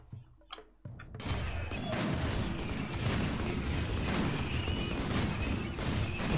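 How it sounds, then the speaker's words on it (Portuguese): In the colony game RimWorld, dense gunfire and explosions erupt after a quiet moment, a sustained, loud barrage of overlapping shots and booms that continues without pause. "Estão separando os tiros, é impressão minha?"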